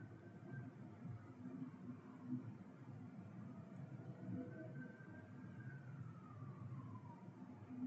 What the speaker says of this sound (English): Beeps and honks and now there's a siren sound.